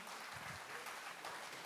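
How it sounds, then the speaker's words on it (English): An audience at a kathak dance, ghazal and Sufi music show claps for a performer: a soft, even wash of many hands, distant and steady through the short burst. "y'all can give Shamali another big round of applause"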